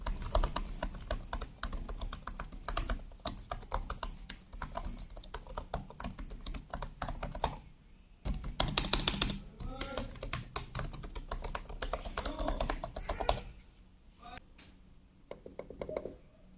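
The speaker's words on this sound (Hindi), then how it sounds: "टाइपिंग एक्सपीरियंस काफ़ी अच्छा है" Typing on the keyboard of an HP Victus 15 laptop (2022, Core i5 12450H): rapid, close, crisp key clicks in bursts with short pauses, a high steady tone in the background, and no talking.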